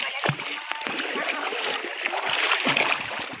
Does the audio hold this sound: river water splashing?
yes